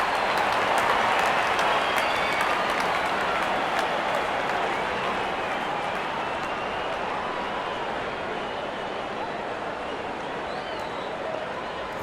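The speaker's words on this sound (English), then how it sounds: "The crowd is enjoying every bit of this action." A video game stadium crowd at a cricket match in Real Cricket 24 roars in a steady, loud wash of cheering that fades slightly toward the end, with no voices standing out.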